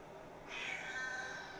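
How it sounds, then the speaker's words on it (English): A house cat gives one drawn-out, fairly faint meow close by in a quiet indoor room, with no one talking over it. "Don't let his meows fool you."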